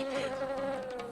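A cartoon bee buzzes in one short, steady, close whine with a bright, nasal tone.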